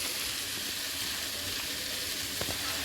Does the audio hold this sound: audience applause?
no